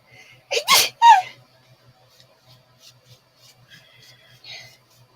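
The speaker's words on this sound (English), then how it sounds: "And I have to sneeze." A person lets out a single close, sharp sneeze with a quick breathy intake, followed by faint rustling and small clicks in a quiet indoor room.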